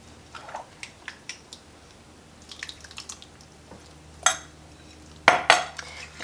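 Sauerkraut salad vegetables tossed with dressing in a bowl: soft, sporadic clinks and scrapes of utensils against the dish, growing louder in a few sharp knocks near the end, with wet mixing sounds between.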